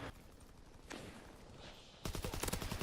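Gunfire from the World War II shooter Call of Duty WWII with a Sten submachine gun, a dense run of rapid shots bursting in loudly near the end after quieter game ambience.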